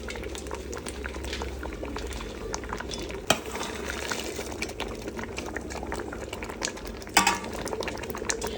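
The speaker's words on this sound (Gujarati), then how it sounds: "ફાસ્ટ ગેસથી બધું દૂધ ઉકળવા દઉં છું" Milk for carrot halwa boiling fast on a high gas flame, a continuous bubbling, churning simmer with occasional stirring clinks and two louder knocks, heard close and without talking.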